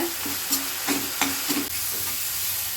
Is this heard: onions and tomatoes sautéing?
yes